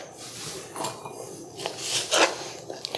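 A kitchen knife cuts vegetables on a board with a few irregular close taps and scraping strokes, loud and alone with no talking.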